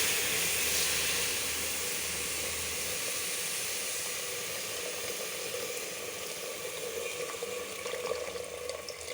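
Water poured into a hot pan of fried polao rice and red lentils with whole garlic for khichuri, producing a steady, dense hiss and bubbling sizzle that slowly settles over several seconds, with no talking.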